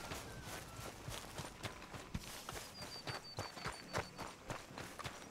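Horse hooves clip-clopping in the Red Dead Redemption 2 video game, a steady walking rhythm of repeated hoof strikes over a busy ambient game background, with no talk.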